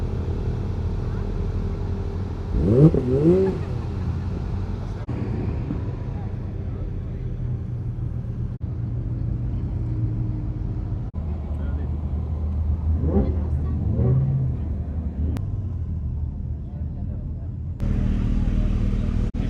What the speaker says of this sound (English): we've got more cars going up the hill right now